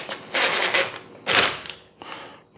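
Parts of a Synergy Cyclone assembly being tightened down by hand give a few close mechanical bursts of ratcheting and grinding, separated by short pauses.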